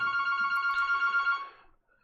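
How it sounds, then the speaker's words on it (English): Electronic phone ringtone trilling in two quick bursts, fairly faint and alone, then cutting off. "We're getting phone calls."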